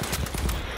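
Rapid burst of gunfire from a sniper engagement in the Battlefield V beta, several loud sharp reports in quick succession over a dense battlefield background.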